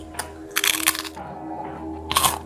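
A crunchy bite of food, sharp crackling bursts close to the mic with a pause between, crisp and short, over a faint steady hum.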